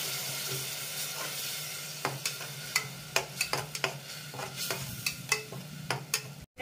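A spatula stirs onion paste and tomato puree together in a pan for a spicy Bengali mutton curry, with a low steady sizzle and, after a quiet start, a run of close scrapes and taps against the pan.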